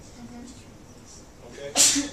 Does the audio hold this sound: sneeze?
yes